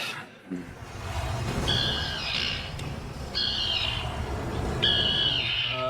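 A voice imitates a tern's call, a few sharp squawking cries repeated over a steady room murmur.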